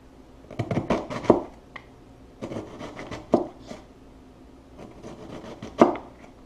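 A knife chopping an onion on a cutting board while dicing for chicken fried rice, three bursts of quick rhythmic knocks with short pauses between, close and crisp, no voices.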